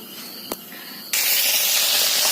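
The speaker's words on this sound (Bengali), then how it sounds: "তার জন্য আগে এই লঙ্কাগুলোকে ভেজে নেবো" Green chillies frying in hot oil in a wok: after a quieter stretch and a single click, a loud, steady sizzle bursts in and holds close and constant to the end.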